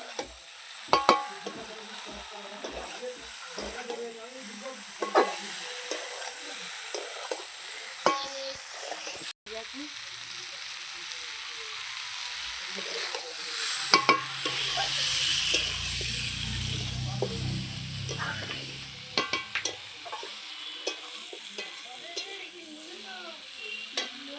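Potato and cauliflower pieces fry in a pan while a spoon stirs them, giving repeated scrapes and knocks over a sizzle that swells louder near the middle, close with a few faint, brief murmurs.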